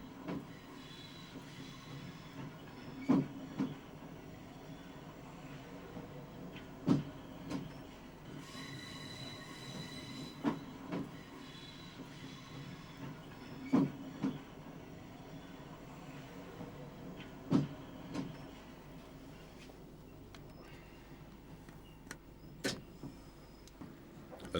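A 1991 train rolling over the tracks near Metropolitan Junction, where the Blackfriars lines narrow to one before joining the Charing Cross lines, with a steady rumble and periodic sharp clacks of wheels over rail joints, heard from inside the train.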